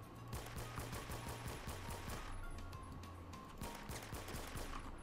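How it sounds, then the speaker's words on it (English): AK rifle firing in the Phantom Forces shooter game: loud, sustained automatic gunfire in dense rapid bursts that run almost without pause, over a low steady tonal hum. "That's an AK shooting at me."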